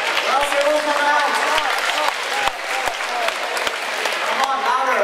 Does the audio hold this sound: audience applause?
yes